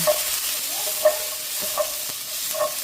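Mixed vegetables with pechay being stir-fried sizzle close by in a hot pan, with a few regular scraping taps of the spatula over a short stretch.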